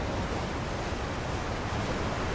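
Waterfall rushing in Elden Ring near a cave entrance, a dense, loud, unbroken roar of falling water filling the scene with no voices.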